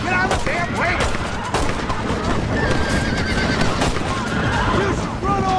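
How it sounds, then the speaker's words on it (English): Horses whinny repeatedly around a wagon in the Red Dead Redemption video game, with clip-clopping hooves, scattered gunshots and bursts of speech mixed into a loud, busy scene. "John, get on the damn wagon"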